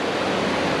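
Ocean waves break at a beach in Israel, heard as a steady broadband wash of surf noise with no voices.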